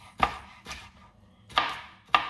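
A knife dicing tomato into small pieces on a cutting board, four sharp close chops at an uneven pace with short pauses between, no talk.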